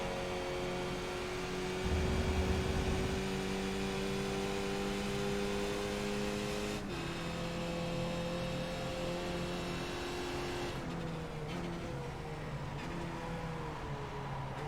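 A race car engine in iRacing held at full throttle on a road course, a steady high-pitched whine that drops with each gear change and climbs again, sustained and close, with no voices.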